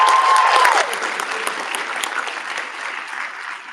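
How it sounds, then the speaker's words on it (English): Audience applause at a Vietnamese culture show, a loud, dense wash of clapping from a large crowd that carries on steadily, with a brief whistle-like tone at the start. "Everyone, please give a round of applause for my board members."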